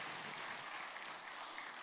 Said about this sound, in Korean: 박수로 하나님 앞에 영광 돌리겠습니다